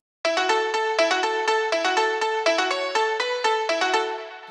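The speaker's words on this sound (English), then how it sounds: "So it's a piano from Nexus that sounds like this." A bright synth piano preset, Dance Piano 2K7 from the Nexus plugin, plays a rhythmic chordal pattern of repeated plucky stabs with sharp attacks and quick decays, loud and alone, the last chord ringing out.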